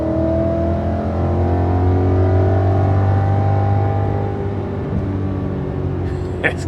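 A catless BMW E92 M3 engine with ARH headers and an Alpine MSS tune revs hard, its loud, close exhaust note climbing steadily in pitch through a sustained pull without any talk.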